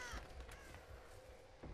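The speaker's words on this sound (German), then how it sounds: "Diese scheiß Krähe!" A crow cawing in the Dead by Daylight video game, a few harsh, moderately faint caws in quick succession over quiet ambience.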